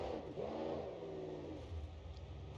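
A turbo diesel car engine in a racing video game revs up and sweeps down in pitch, a steady mid-loud droning whir that rises, dips, then settles into a lower hum, with no voices.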